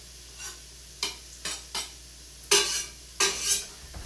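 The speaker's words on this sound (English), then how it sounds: "It sizzles when it hits." Onion dropped into hot oil in a pot crackles and sizzles in short bursts, with stirring and utensil clinks between them, close and fairly quiet.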